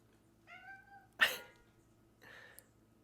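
A pet cat meows once indoors, followed by a sharp louder sneeze-like burst and a softer breathy sound, all fairly close against a quiet room.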